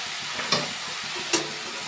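Crushed green chilies going into a hot frying pan, a steady sizzle with two sharp scraping stirs of the spatula standing out, no talking.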